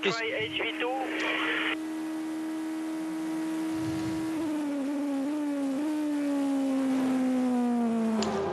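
Onboard with the number 7 Audi Le Mans prototype racing at the 24 Hours of Le Mans, a steady high engine whine shifting pitch through several gear changes, loud and close.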